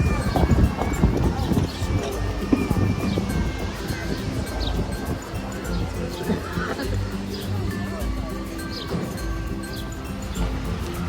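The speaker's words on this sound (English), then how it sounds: "Horse and carriage." Horse hooves clip-clop steadily at moderate distance as a horse and carriage waits for passengers at a church in Cape May, New Jersey, with a whinny, light wind on the microphone and people talking nearby.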